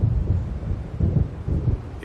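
Low rolling thunder from an approaching storm rumbles in slow repeated swells with faint rain hiss beneath, in the video game Alan Wake.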